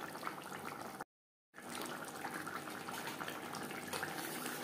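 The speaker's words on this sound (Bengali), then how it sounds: "3-4 মিনিট গ্রেভি বেশ ভালো করে ফুটিয়ে নেব।" Katla fish curry gravy with flat beans simmering in a pan, a steady bubbling hiss that drops out completely for a moment before resuming.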